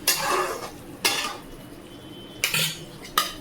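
A metal lid is lifted from a pot of tilapia curry with eggplant and potato, giving four sharp, close clanks at uneven intervals with quiet gaps between and no talking.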